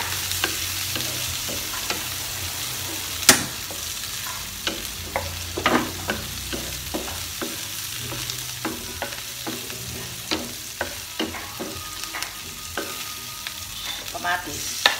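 Ginger, onion and chili sautéing in a hot pan, with a steady close sizzle and frequent sharp clinks and scrapes of a spatula stirring throughout.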